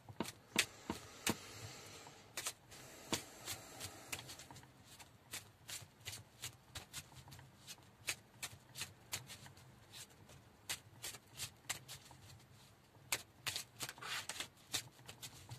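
A deck of tarot cards is shuffled by hand in a quiet room, giving sharp riffling snaps and soft papery slides in an uneven rhythm, close and alone with no talking.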